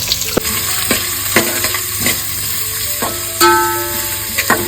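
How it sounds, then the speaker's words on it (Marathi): Onion frying in oil in a pot with whole garam masala and bay leaf, a steady close sizzle broken by repeated sharp scraping stirs of a spoon against the metal. "टोपामध्ये तेल घालून घेतलंय इकडे सर्व अख्खा गरम मसाला घालून घेतोय त्यामध्ये इकडे पेस्टपत्ता घालून घेतोय"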